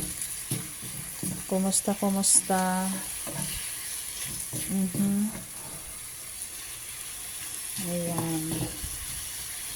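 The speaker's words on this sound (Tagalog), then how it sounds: "gisa-gisa lang natin yan" Tuna sizzles as it is sautéed in a pan, a soft steady frying hiss with scraping stirs, while a person talks over it in short bursts.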